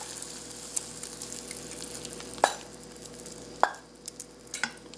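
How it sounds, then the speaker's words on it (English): Vegetables sautéed with potato, tomato, mushroom and onion are tipped into half of a frying pan holding an omelette, giving a low steady sizzle with a few sharp clinks and taps of a utensil on the pan. "take our sauteed vegetables and add them to half of the pan"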